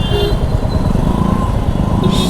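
Motorcycle ride on a highway around Ahmedabad toward Vadodara with the helmet visor left open: a steady, loud engine drone mixed with constant wind roar buffeting the helmet microphone throughout.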